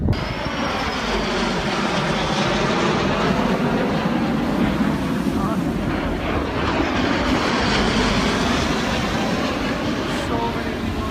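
Fixed-wing airplane at the Miami air show over the beach and water, a loud, sustained engine roar that holds steady without letting up, with no talk over it.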